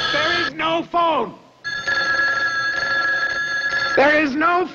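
A telephone bell rings in a steady, sustained burst from a film scene, with a loud voice calling out just before and just after it.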